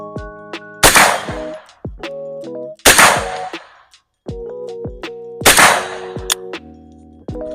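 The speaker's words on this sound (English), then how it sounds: "Let's take a couple slow aim shots, a little target down there." Slow, deliberately spaced shots from a PSA AKV firearm at a target about 35 yards out, three sharp loud reports each followed by metallic clanks and ringing, close and alone with no talk.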